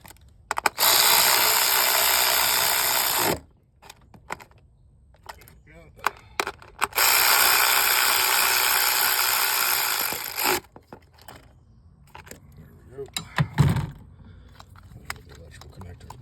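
Ratchet wrench clicking steadily in two long bursts as a spark plug is screwed back into cylinder 3 of a Ford Edge engine, loud and close, with brief tool handling noises between.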